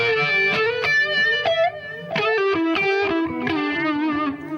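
Electric guitar chords and single notes ring out through a Uni-Vibe-style modulation pedal with a throbbing, swirling wobble, played alone in a loose rhythm.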